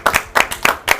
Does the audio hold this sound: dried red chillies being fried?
no